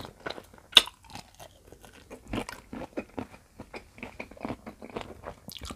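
Fresh shrimp salad with sticky rice noodles and vegetables is eaten up close, with crisp crunching bites and wet chewing in an irregular rhythm, a sharp loud crunch early on, and no talking.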